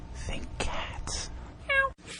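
A voice imitating a cat gives a short, nasal meow in a podcast segment, amid other brief voiced sounds and breathy noises, close and fairly loud.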